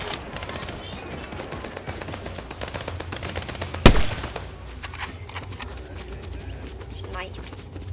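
Gunfire in the Fortnite video game: a rapid stream of game shots, with one sharp, loud blast standing out near the middle, mixed under players talking over the action.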